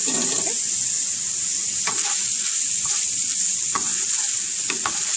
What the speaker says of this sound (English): we're just going to cook this until the onions turn translucent